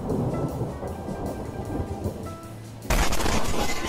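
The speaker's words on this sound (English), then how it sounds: "That one thunderstrike in the middle of the night that everyone talks about in the morning" A thunderstrike cracks during a night storm in Ohio. Low rumbling builds, then a sudden loud, sharp blast of thunder hits near the end.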